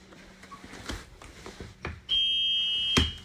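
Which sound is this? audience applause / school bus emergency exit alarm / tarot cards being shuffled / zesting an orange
school bus emergency exit alarm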